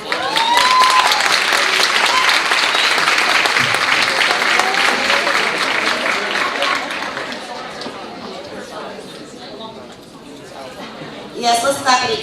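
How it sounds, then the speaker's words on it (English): Audience applause at a women's history month empowerment symposium, loud dense clapping from a crowd with cheering that tapers off, followed by voices and a short renewed burst near the end. "let's clap it again for Jamila"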